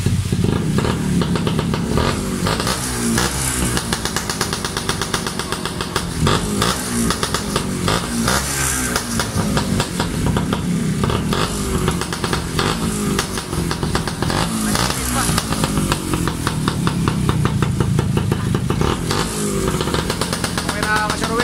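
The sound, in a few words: Kawasaki XD3 motorcycle engine running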